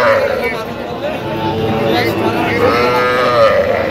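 Shahiwal and Friesian cattle moo loudly at a crowded livestock market in Bangladesh, while voices and general crowd babble carry on underneath.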